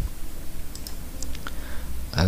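Keys clicking on a computer keyboard during C++ programming, a few sparse, light taps spread out, followed by a louder clatter near the end, over quiet room noise.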